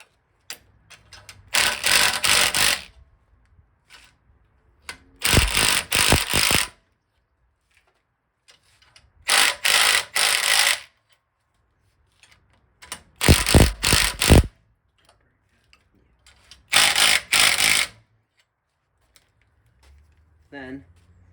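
Ratchet wrench loosening a front shock mounting bolt on a 1981 Toyota Celica, in five loud bursts of rapid clicking separated by pauses, with faint talk between.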